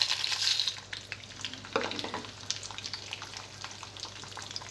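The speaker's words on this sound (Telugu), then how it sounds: "ఆయిల్ వేడైన తర్వాత శనగపప్పు వేసుకోవాలి. శనగపప్పు కొద్దిగా ఫ్రై అయిన తర్వాత ఎండుమిర్చి," Chana dal frying in hot oil for gongura pachadi, a close, busy crackle and sizzle with bright spattering at the start, then settling into steady popping and a few stirring scrapes.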